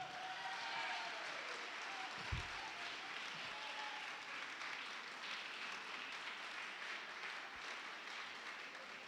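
A church congregation applauds and cheers in praise, a steady, dense wash of clapping and crowd noise that holds evenly throughout at a moderate distance, with a few low thumps near the start.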